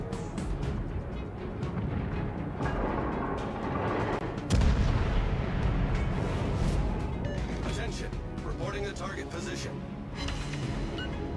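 Heavy naval guns of a Scharnhorst battleship boom in World of Warships, with a sharp loud blast partway through amid continuous rumbling battle noise, while someone talks over the action.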